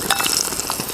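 Finely chopped shallots sizzling steadily in hot oil for a Kerala-style mackerel fish curry, a dense, continuous crackle close up with no talk.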